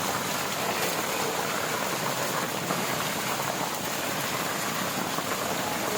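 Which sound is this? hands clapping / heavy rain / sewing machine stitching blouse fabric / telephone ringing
heavy rain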